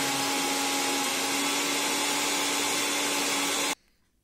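A kitchen grinder whirs steadily as it grinds green coriander chutney, a loud continuous motor whine with a high hum that cuts off abruptly near the end, leaving faint room noise.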